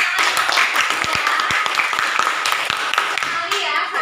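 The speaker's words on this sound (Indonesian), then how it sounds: "tepuk tangan" Students in a classroom clap their hands after a group presentation, a loud, close, uneven burst of many hands with a few sharp individual claps standing out, while children's voices chatter faintly underneath.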